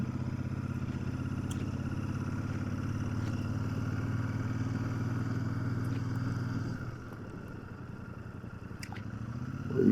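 Motorcycle ridden in second gear on a steep, sharp-turning mountain road holds a steady droning engine note, then eases off abruptly near the end before revving again.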